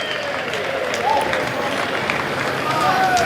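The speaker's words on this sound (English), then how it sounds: "there's some applause ringing out there" Applause from the crowd at a Test cricket ground between England and New Zealand, a broad steady patter of distant clapping and murmur beneath someone speaking over it.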